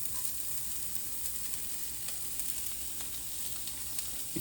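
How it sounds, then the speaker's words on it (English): Half an onion sautés in a pan for Frikadellen, giving a steady, faint sizzle with soft crackles and no voices. "So the onions have been sauteing for about a minute."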